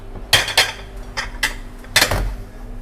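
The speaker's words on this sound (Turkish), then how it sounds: "Şimdi size servis tabaklarınızı hazırlayacağım." Plates and metal serving dishes are set out for serving in a breakfast kavurma eatery, several sharp clinks and clatters in an uneven rhythm, close by.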